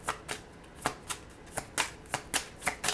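Tarot cards being shuffled by hand, a quick run of about a dozen crisp riffling flicks in a steady rhythm, close and clear with no talking.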